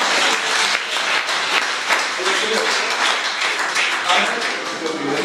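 A church congregation claps steadily in praise of God, a continuous dense wash of hands with a few distinct slaps, mixed with voices that may be cheering.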